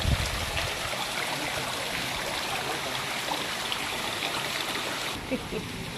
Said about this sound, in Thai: มีน้ำตกน่ารักน่ารัก